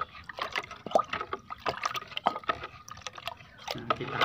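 Dolomite lime poured into water and stirred for strawberry plants, giving close, irregular splashes, drips and sloshing with short liquid bursts throughout.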